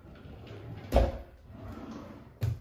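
A makeup organizer drawer slides open with a short scraping thunk, followed by a second, quieter knock from the drawer a moment later, close by in a quiet room.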